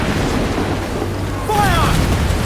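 Ship cannons firing in the Assassin's Creed Black Flag video game, a sustained booming roar under game noise, growing louder partway through with whistling streaks over a steady rumbling bed.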